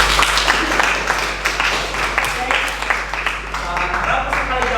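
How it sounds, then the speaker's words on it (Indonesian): Applause from a class of eighth-grade students fills the room, a dense patter of many hands running steadily with a loud low hum beneath and some voices mixed in. "Kita beri tepuk tangan dulu."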